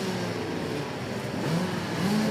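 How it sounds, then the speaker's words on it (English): Rotax DD2 two-stroke kart engines revving in a racetrack paddock, a steady mid-pitched buzzing drone with pitch rising toward the end, fairly close and heard without talk. "the engines have fired here in the paddock for the Rotax DD2"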